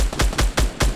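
Gunfire in the video game Fortnite: five loud, sharp shots in quick succession, evenly spaced about a fifth of a second apart, with no voices over them.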